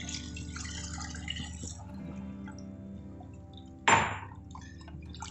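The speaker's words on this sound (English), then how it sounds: "Once the cream is mixed, we'll add a bowl of water." Water from a bowl pours in a short, loud splash into chicken cream gravy in a pan, a single burst rising out of a low kitchen hum before settling back.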